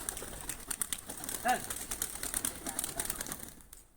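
Pigeons loose near a motor coo softly amid bursts of fluttering wingbeats, with repeated flapping pulses and a faint voice in the background.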